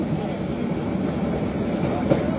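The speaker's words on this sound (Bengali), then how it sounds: "ট্রেনটি এখন ধীর গতিতে এগিয়ে যাচ্ছে টঙ্গী জংশন প্ল্যাটফর্মের দিকে" From inside the Mohanagar Godhuli Express, a steady low rumble of the carriage rolls on as the train moves slowly toward Tongi Junction, even and continuous throughout.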